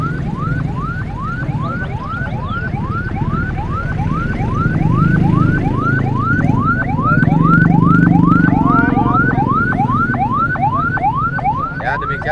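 A loud, close ambulance siren on a street near Tugu Tani in Jakarta, wailing in rapid repeated rising sweeps that continue without a break.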